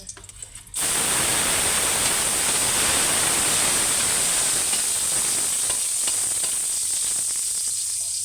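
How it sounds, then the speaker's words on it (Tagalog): Garlic hitting hot oil in a pan for kangkong with tokwa, bursting into a loud, dense sizzle after a brief quiet moment and holding steady and close to the end. "Mag-saute ulit tayo guys ng bawang."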